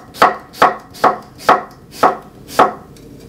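Apples being sliced with a knife on a board for drying: six sharp, evenly spaced cuts in a steady rhythm, close and clear with no talking.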